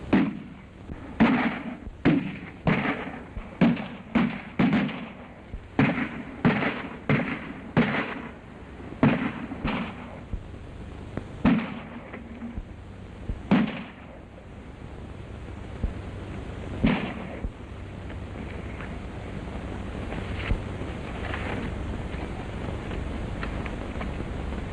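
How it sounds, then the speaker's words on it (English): Gunfire in a 1932 western film, a series of about a dozen sharp, echoing shots in uneven bursts, loud and distinct, thinning out to a few scattered reports before fading into steady background hiss. "Shoot at the smoke."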